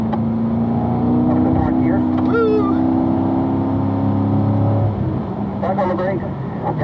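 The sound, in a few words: car accelerating on a race track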